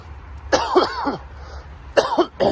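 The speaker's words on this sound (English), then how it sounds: "So I've got a bit of a cough." Harsh, raspy coughs come close up in two clusters beside a bypass footway in Oxford, the first a run of several hacking coughs, the second a shorter fit.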